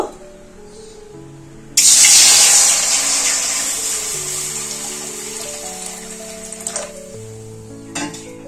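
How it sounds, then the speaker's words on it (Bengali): Water poured into a hot kadai (wok) sets off a sudden loud, broad hiss that begins partway in and slowly fades over several seconds, with a couple of brief clatters near the end and no talking. "কড়াইয়ের মধ্যে জল দিয়ে দেব।"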